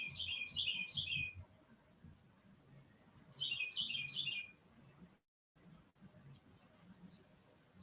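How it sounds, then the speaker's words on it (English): Birds chirp outdoors in two quick bursts of three bright, rapid tweets each, moderately close, with a faint low background rumble and no talking. "Y'all hear the birds?"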